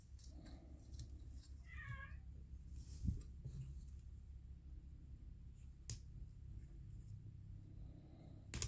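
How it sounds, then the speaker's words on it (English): A house cat shut out of a room gives one clear, wavering meow nearby in an otherwise quiet space, followed by a few faint taps and clicks. "My cat is very upset at me because I won't let her into this room"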